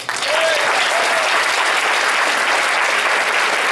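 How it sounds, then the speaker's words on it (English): Dinner audience at the Wellsburg Chamber of Commerce annual dinner breaks into loud, steady applause, a dense wash of clapping that holds evenly for nearly four seconds, with a couple of faint voices rising briefly early on. "He deserves a round of applause."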